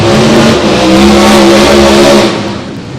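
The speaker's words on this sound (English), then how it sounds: "We got a methanol fuel car on the right side and a nitro car on the left side." Funny car drag racing engines, a methanol car and a nitro car, roar loud and close in a sustained, throbbing blast that fades slightly at the end.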